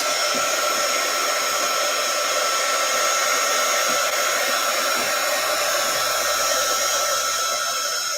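A hair dryer blows steadily over fresh marker artwork, a constant close whooshing hum with a high whine and no pauses.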